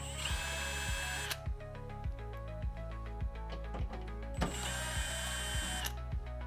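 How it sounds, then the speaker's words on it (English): A power tool whirs in two sustained runs while it removes the two 7mm bolts at the back of the rear bumper on a 2019–2024 Camaro, with a steady rhythmic mechanical ticking between and under them. "there are two 7mm bolts at the very back of the bumper. You're going to remove those."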